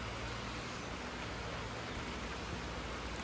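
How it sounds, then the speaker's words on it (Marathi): Steady, even hiss of rain pouring onto a hard road surface, continuous and fairly loud throughout, with no voices. "पण आहे सुरू झाला मे महिन्यातला काय तो एप्रिलच्या लास्टचा पाऊस."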